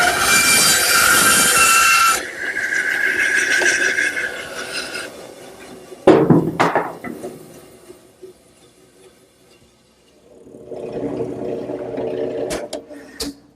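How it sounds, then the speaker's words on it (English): Bandsaw with a 3/8-inch blade cutting a circle out of a wooden bowl blank: a loud, steady, whining cut that stops around two seconds, followed by quieter runs of the saw, a sharp clatter, and a later stretch of humming. "I'll use the bandsaw to cut out the circle."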